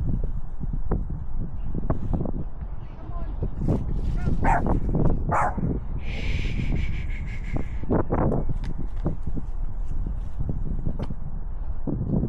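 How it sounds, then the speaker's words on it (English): A dog outdoors in the gardens of Waltham Abbey Church in Essex growls and barks repeatedly, loud and close, with irregular yaps and whimpers over wind noise. "They see Lucy growling and then they start hanging around."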